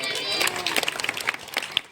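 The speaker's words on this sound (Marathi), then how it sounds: "या दोघींसाठी जोरदार टाळ्या वाजवा बरं" An audience claps for two contestants at a Home Minister contest held by a Shrikrishna Mitra Mandal group, producing a brief burst of applause under a speaking voice and crowd noise.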